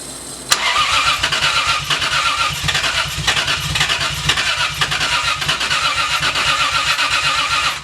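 A big-turbo Lexus GS300 engine cranks and fires for its first start, then runs in a loud, rough, throbbing idle close by.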